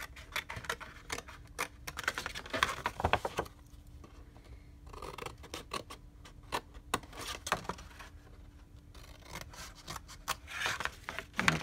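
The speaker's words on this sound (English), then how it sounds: "we're going to take our scissors and we're going to cut" Scissors snip through paper, trimming the outer edges of a craft project, in quiet irregular bursts of close crisp cutting and rustling, with no talking.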